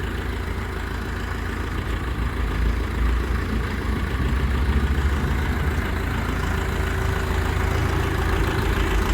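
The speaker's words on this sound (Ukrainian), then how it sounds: "Ось такий тракторець іде" A Dongfeng 404 G2 tractor with cab, its engine running steadily at a constant idle, a loud close low rumble with a continuous throbbing drone throughout and no speech.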